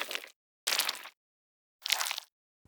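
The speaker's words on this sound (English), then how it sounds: "it's supposed to be like the blood falling on the floor after the character gets hit" Gore sound effect of blood falling to the floor after a character is struck: three separate wet, splattery bursts, each short and soft, spaced by silence.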